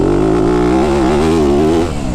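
A Yamaha YZ250F four-stroke dirt bike engine revs loud and close, a steady rising and falling buzz that holds for about two seconds before easing off, with no talking.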